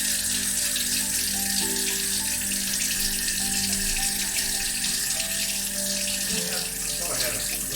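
A kitchen tap runs steadily while a cutting board is rinsed and washed down, a continuous close splashing hiss with brief clatter near the end.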